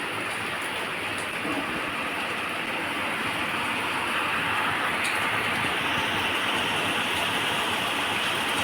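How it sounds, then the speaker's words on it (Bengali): Heavy rain falls steadily outdoors at about half past six in the morning, a dense, even roar that holds without pause for the whole stretch, with no voices. "ঝমঝমিয়ে বৃষ্টি হচ্ছে বাইরে"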